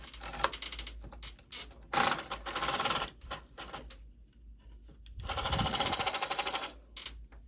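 A knitting machine carriage runs across a row of needles with latches up, giving loud bursts of rapid mechanical clatter and ratcheting, in two main passes separated by quieter clicking, close and alone without talk.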